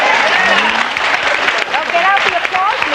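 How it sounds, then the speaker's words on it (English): A talk-show studio audience applauds with a steady, dense clapping wash, while a voice speaks over the crowd noise. "get out the applause meter"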